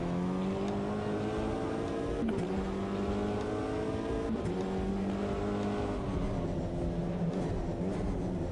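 An Aston Martin race car engine in the Automobilista 2 driving game holds a loud, steady high drone that dips sharply twice on gear changes, then climbs again under heavy load, with no talking.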